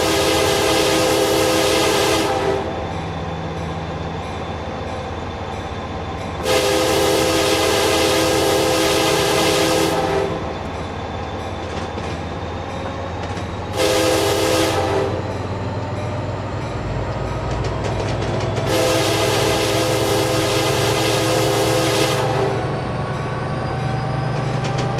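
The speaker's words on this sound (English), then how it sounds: "Turn the bell on and start the whistle." A locomotive whistle in the Train Simulator 2015 video game, set on Cajon Pass, sounds in several long loud blasts with gaps between them, over a steady rumbling engine and a ringing bell.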